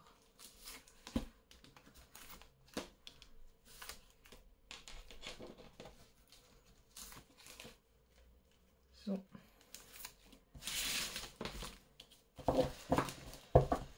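Tarot cards are shuffled close by with soft, irregular rustling and flicking bursts, ending in a denser, louder riffle.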